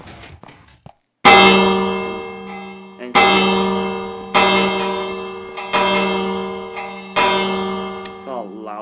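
Fire alarm bell in Minecraft rings in loud, sustained bursts, about five tones each starting sharply and slowly decaying, with brief gaps between and a few words spoken near the start.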